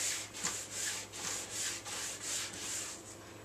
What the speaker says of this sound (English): I'm pressing down as I'm going forward, and I'm letting the press and wax tool just ride